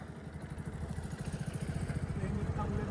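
A motorcycle engine racing on a dusty road, a steady pulsing low-pitched putter that holds throughout at close range while a voice talks over it.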